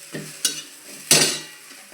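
Soaked poha being stirred and sautéed in a pan with roasted peanuts and coriander for onion poha, giving a few scraping strokes over a faint sizzle, the last stroke longest and loudest.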